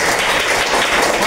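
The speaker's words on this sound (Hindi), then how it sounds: "बहुत अच्छा जवाब, जोरदार तालियां के लिए।" Brief burst of enthusiastic applause from a class of students rewarding a correct answer, dense and loud, a continuous wash of many hands with no speech.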